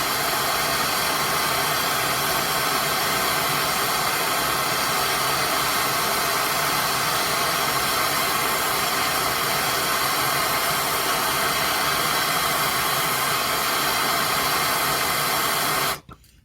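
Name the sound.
heating a bumper nut on a 1977 Chevrolet C10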